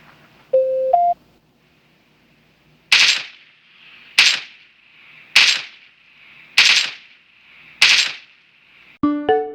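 Gunfire from an FPS video game played through budget wireless earbuds with gaming mode on: five evenly spaced loud, sharp shots about a second apart, alone, framed by short electronic tones at the start and end.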